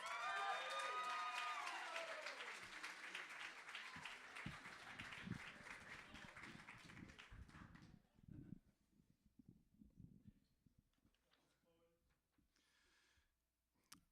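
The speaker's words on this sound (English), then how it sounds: "can we get a round of applause for Expect," An audience at a poetry slam bursts into applause that swells at first and then tapers off, leaving scattered claps and soft room noise.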